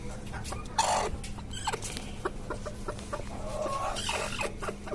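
Desi and tiger chickens kept in cages on a rooftop farm, with several hens clucking in scattered bursts at moderate distance over a constant low background hum.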